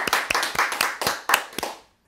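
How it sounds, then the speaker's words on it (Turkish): A few people clapping hands, several sharp, distinct claps in a quick uneven rhythm close by, ending in silence. "Bir alkış alalım."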